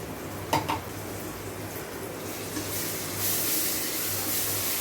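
Ginger garlic paste frying with onions in a pan for chicken, a soft continuous sizzle with a couple of brief utensil clinks near the start, the hiss growing slightly louder toward the end.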